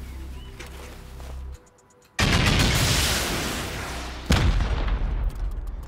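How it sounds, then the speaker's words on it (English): HV rockets fire at turrets in the Rust survival game, two heavy booming launches with rushing blasts and lingering rumble, loud and close amid game noise. "I'm gonna send some HV rockets from here"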